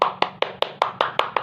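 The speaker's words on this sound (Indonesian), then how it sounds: "Alhamdulillah, tepuk tangan untuk kita semua." Classroom applause: eight crisp, evenly spaced hand claps in quick succession, close and loud, with no talking over them.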